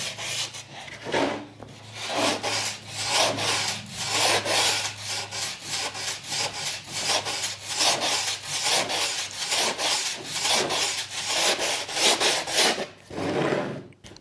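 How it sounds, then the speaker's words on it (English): A carbon fiber front splitter is hand-sanded with steady back-and-forth strokes, a loud, close, rhythmic scratchy rasp that continues almost unbroken before a short pause near the end. "this sands out nicely"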